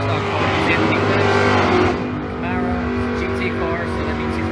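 A super stock Camaro drag racing car runs, a loud droning engine with strong low harmonics that holds for about two seconds, then drops and continues more steadily while a voice talks over the track noise.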